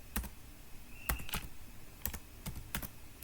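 Quick bursts of keystrokes on a computer keyboard, tapped in short uneven clusters at close range with brief pauses between them.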